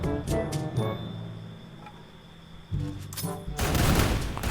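Bursts of gunfire from the Free Fire video game, a few quick volleys early on, then a louder sustained burst near the end, with no talk over it.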